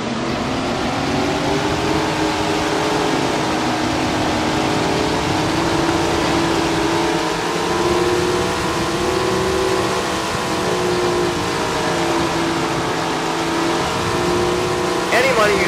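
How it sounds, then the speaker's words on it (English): Sprint car engines in Tony Stewart's Sprint Car Racing on PC, a TQ midget field rolling to the line at Waterford: a steady, dense, loud engine drone that holds throughout, with rising and falling whine layered in. "Listen to these engines roar as they roll to the line."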